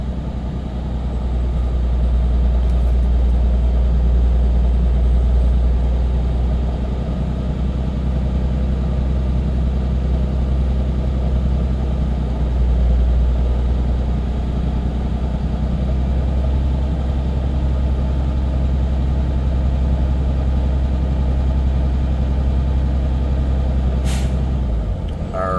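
A 2017 Freightliner M2 truck idles steadily and loudly, building air brake pressure with a continuous low rumble and constant hiss, ending in a short sharp air release near the end, with no talking.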